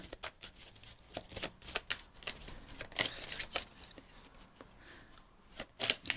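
Cards drawn and shuffled from a deck during a Capricorn horoscope card reading, a series of crisp, close papery snaps and flicks in irregular bursts over quiet background.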